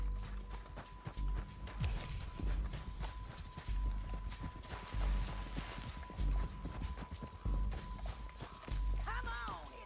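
Horse hooves clip-clopping in the Red Dead Redemption 2 video game, a steady trot of galloping hoofbeats with game ambience and a horse snorting near the end.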